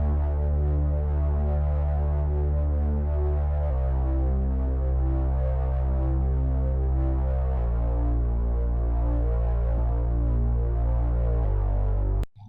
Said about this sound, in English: Also, I added a REMIXED bass that sounds like this.